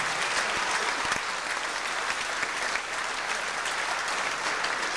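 Sustained audience applause fills an IFBB bodybuilding championship hall in Hamburg, a dense steady wash of clapping from a large crowd throughout, loud and continuous without break.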